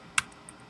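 A single sharp keystroke on a computer keyboard, followed by a fainter second tap, close and quiet while code is typed.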